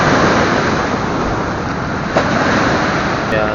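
Large sea waves crashing during monsoon season, a continuous loud roar of surf and wind with no breaks.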